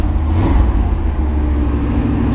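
A 1998 Chevrolet 3500HD dump truck with a 454 gas engine runs at a steady, loud, close idle, a continuous low rumble with no voices over it.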